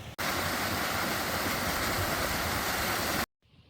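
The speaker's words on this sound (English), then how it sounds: "at least getting lost you find beautiful places like this nice little waterfall." Small waterfall in Snowdonia on a night walk, a steady loud broadband rush of falling water close by, continuous for about three seconds before cutting out abruptly.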